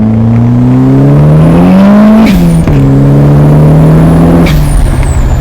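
A family sedan fitted with a rally car engine revs hard and shifts gears while being driven, its loud, strained engine note climbing, dropping and climbing again close by, with no talking.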